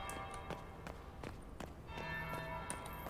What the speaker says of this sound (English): Bells.